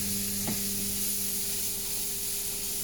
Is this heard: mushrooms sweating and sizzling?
yes